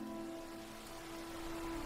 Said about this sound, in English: The rain was falling endlessly on the town